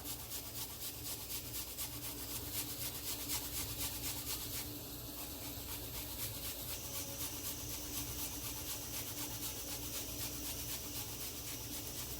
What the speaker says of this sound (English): I'm going to go ahead and grate up my ginger.